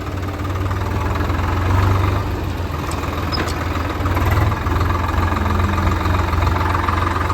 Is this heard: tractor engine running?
yes